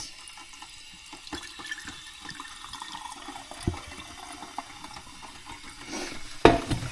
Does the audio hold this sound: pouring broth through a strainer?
yes